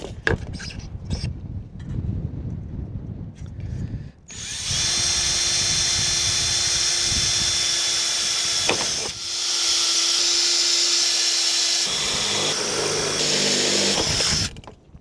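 A power drill bores holes through the aluminum frame of a solar panel resting on a piece of wood, a steady loud whine in long runs broken by short pauses and a bit change, close by with no talk.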